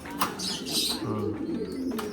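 Racing pigeons for a one-loft race, including checkered and red check birds, cooing in a loft with soft low throaty calls blending into a steady background hum, fairly close.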